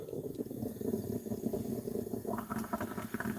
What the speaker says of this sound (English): the coffee is running out of the water from the bottom and it's starting to spurt and spatter